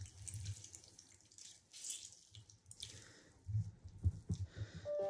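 Water squeezed by hand out of wet shredded-paper pulp, dripping and trickling with soft squishy wet sounds close by, in uneven bursts and no talking.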